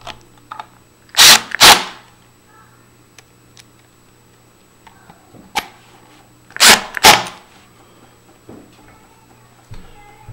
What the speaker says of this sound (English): we're going to go ahead and install the top and bottom screws. that hold this bevel plate on